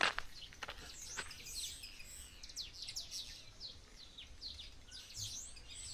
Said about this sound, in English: So many weaver birds.